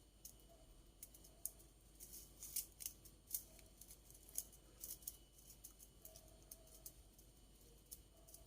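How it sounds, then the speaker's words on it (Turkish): Small scissors snip wire over and over while a pearl bridal crown is being made. The clicks are faint and quick and sit in a quiet room. "Çok fazla da çevirmeden hemen burada kesiyorum."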